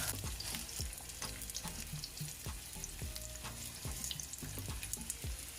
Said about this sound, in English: So we're just gonna fry up these plantain